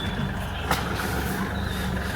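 A truck or similar heavy road vehicle rumbles steadily at close range, engine noise filling the scene with a brief louder burst partway through, on a forest road in Corbett.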